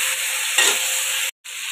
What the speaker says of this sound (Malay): Okey, tumis semua bahan sampai layu